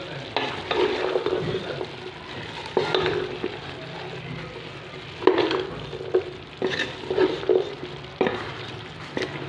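Cauliflower florets stirred into chicken curry frying in a pan, with a steady sizzle and repeated scraping stirs that come in irregular bursts, close and fairly loud, with no talking.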